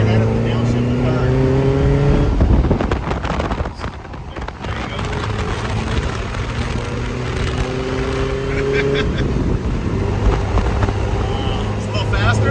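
A Suzuki Samurai climbs a hill, its engine droning steadily with rising revs and a gear change partway through, heard from inside the cabin under ongoing conversation.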